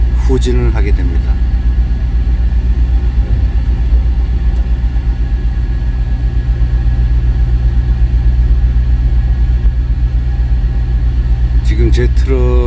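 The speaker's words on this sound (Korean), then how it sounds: "지금 제 트럭 뒤에서는 그 지게차가 왔다 갔다 하면서 그 짐을 하차하는 중이기 때문에 많이 그 트럭이 지금 출렁출렁 됩니다." Heavy truck engine idling with a constant loud low rumble while a forklift unloads cargo behind the parked trailer. Someone talks over it almost the whole time.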